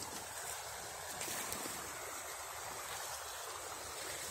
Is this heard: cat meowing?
no